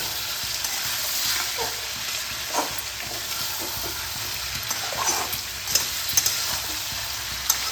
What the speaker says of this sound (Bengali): টমেটো আর ডিম ভুজিয়াটা ভালোভাবে মিশিয়ে দেবে